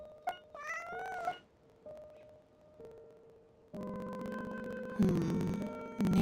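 A cat meows in the Genshin Impact video game, several short tonal cries in the first second followed by sustained electronic game tones and music-like hums.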